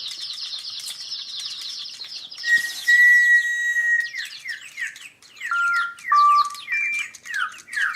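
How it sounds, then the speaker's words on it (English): A whistle blown at DigiChicks toy birds sets off a chorus of electronic chirps and tweets, with bright sustained whistle tones and busy, close, steady warbling. "let's blow the whistle and see what happens."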